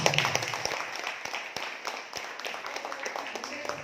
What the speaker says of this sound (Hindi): तो एक बार अपने लिए जोरदार ताली